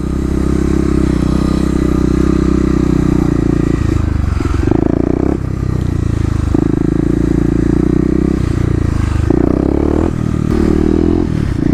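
Kawasaki KLX250 dirt bike loud and close in first gear, its engine droning steadily with brief dips and surges as the bike is bounced down and the front wheel lifts, with some rattling clatter mixed in.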